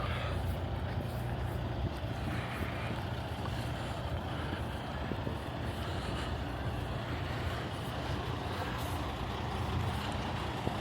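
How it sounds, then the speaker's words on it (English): Buses move through a busy Busan street near the cruise port, giving a steady, loud diesel engine rumble and traffic noise throughout with no clear pauses. "There's buses and buses and buses here today"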